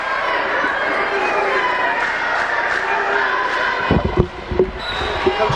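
A loud crowd roars at a high school basketball game in a gym, with sustained cheering and chatter, then sharp ball bounces and shoe squeaks near the end. A commentator's voice is mixed in.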